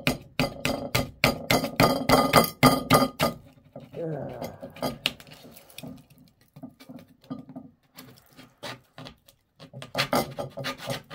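A knife works open an old, highly pressurized 60-year-old pet food can, giving rapid metallic tapping and scraping bursts in uneven clusters, close and loud, with a quieter scraping stretch in the middle.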